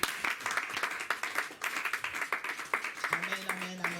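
A church congregation applauds at a Sunday service, with dense, continuous clapping close by that keeps going throughout as voices call out over it.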